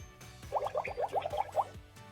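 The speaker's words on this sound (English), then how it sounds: "Bubbles." Bubbles pop and burble in a quick run of about eight bright, bloopy blips over a light rhythmic musical backing.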